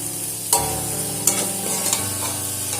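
A spoon stirs boiled bean (shim) vegetables with added sugar in a pan, giving a steady close sizzle broken by a few sharp scraping knocks against the pan, with no talk.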